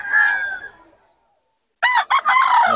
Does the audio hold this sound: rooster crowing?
yes